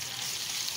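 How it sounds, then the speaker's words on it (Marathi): Onion frying in a pan for a pea and potato rice dish, a steady, close hiss of sizzling oil with no talk. "छान चांगला परतून घेऊया तो।"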